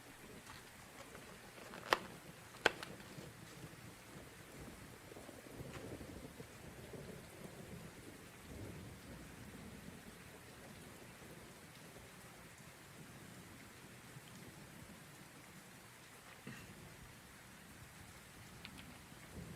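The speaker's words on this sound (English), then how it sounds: "The sound of the rain relaxes." Steady rain falls during a thunderstorm, a soft constant patter with two sharp thunder cracks close together early on and a low rumbling wash beneath, all fairly quiet.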